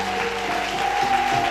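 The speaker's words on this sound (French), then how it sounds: "Est-ce que quelqu'un peut se lever, acclamer fort le Seigneur?" A church congregation acclaims and applauds at a women's ministry celebration, with steady clapping mixed with cheering voices and a held musical tone filling the room.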